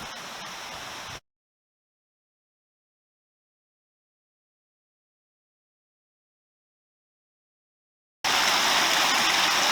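Forney Creek rushing at a trail crossing in the Smoky Mountains, a steady broadband wash of flowing water, loud at the start, cut by a long silent gap, then returning louder.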